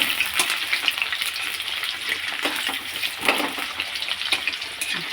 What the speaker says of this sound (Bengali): আলুটা ভেজে নিই।